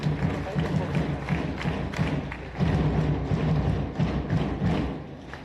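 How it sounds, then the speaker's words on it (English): Audience clapping in a school hall as the chief guest takes the seat of honor at a Model UN opening ceremony, a steady dense round of applause mixed with crowd murmur and thumps that swells partway through. "Please join us in extending a warm round of applause as the Chief Guest takes the seat of honor."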